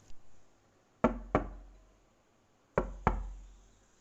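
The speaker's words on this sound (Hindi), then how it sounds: "दरवाजे पर दस्तक हुई।" Two pairs of sharp knocks on a door, each pair quick and close, separated by a pause in an otherwise quiet room.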